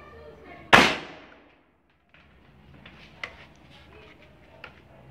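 A single sharp crack of a CBC Jade 5.5 air rifle shot at an oil bottle, loud and close, followed by a fading tail, then quiet with a few faint clicks and small knocks.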